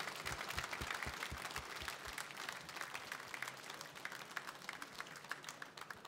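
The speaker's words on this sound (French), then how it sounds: "Allez, on les applaudit. On les applaudit." Audience applause at a fishing awards ceremony, honouring a young street fishing team: dense, steady clapping from a crowd running continuously throughout, fairly close and even in loudness.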